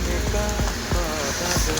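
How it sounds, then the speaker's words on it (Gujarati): Heavy rain falls in a steady, dense patter with scattered louder drops and splashes, close and continuous, with faint background noise. "બહુ વરસાદ પડે છે,"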